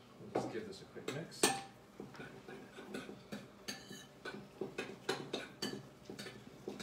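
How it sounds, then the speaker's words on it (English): Food being given a quick mix in a 4-in-1 cooker: a run of light, irregular utensil clinks and scrapes, close and moderately loud, with a voice at times in the background. "we'll just give this a quick mix"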